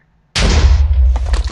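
A super TNT launcher cannon fires in Minecraft: after a short silence one loud, sudden blast bursts out, then a rumbling, crackling tail with smaller pops follows.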